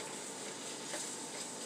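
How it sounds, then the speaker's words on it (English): Spices sizzling in a pan for a creamed mushroom and spinach penne, a soft, even frying hiss that holds steady and fairly quiet throughout with faint bubbling texture. "just gonna leave this sizzle for another minute"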